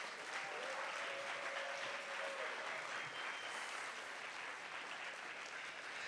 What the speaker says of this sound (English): let's give another round of applause to all the performances.